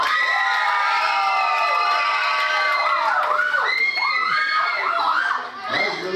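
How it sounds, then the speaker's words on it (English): A youth rally crowd of children and teens cheers and shrieks loudly, many high excited voices yelling together in a sustained roar that dips briefly near the end. "So make the most noise for whichever topic you like the best."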